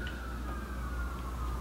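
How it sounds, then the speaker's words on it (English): An ambulance siren holds steady and slowly drifts lower in pitch over a low background rumble, fairly faint, as if passing at a distance. "I hope you can hear the ambulance as we live close to a hospital"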